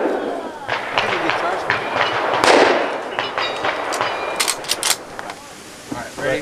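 A shotgun fires during clay shooting with a sharp, loud blast near the middle, followed by a few smaller cracks. People talk over and between the shots outdoors.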